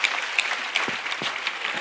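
A congregation at a prayer gathering claps and acclaims in a brief, dense burst, with scattered shouts rising over the steady applause.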